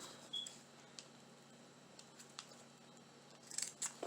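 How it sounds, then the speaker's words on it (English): Scissors snipping artificial greenery with berries for a Dollar Tree Easter craft, giving faint, sparse clicks over a quiet background, with a few sharper cuts near the end. "Now let's cut this greenery"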